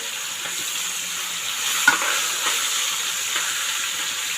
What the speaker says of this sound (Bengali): এক সাইডে মাংসটা দিয়ে এর মধ্যে আমি ভালো করে মাংসটা ভেজে নেবো খানিকটা।